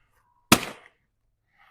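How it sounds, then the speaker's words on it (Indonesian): A single sudden loud blast stands in for a lightning strike, a sharp burst that decays over about a third of a second, alone in otherwise near silence. "terdengar bunyi ledakan yang dahsyat"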